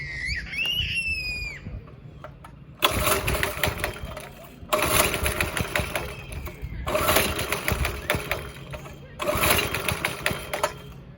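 A 5.5 HP Briggs and Stratton go kart engine is pull-started and catches, then runs in loud bursts that rev and die back between pulls, close by with a person talking.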